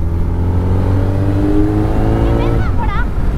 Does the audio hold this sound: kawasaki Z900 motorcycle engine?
yes